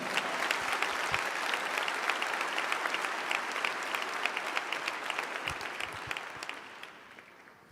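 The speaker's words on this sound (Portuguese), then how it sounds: "Você pode aplaudir o Senhor por isso?" A church congregation applauds during a worship service, a dense, steady wash of many hands clapping that holds for several seconds before thinning and fading out at the end.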